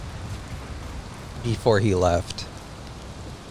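Steady torrential rain hisses as an even wash of noise in Valheim, with someone speaking briefly over it partway through.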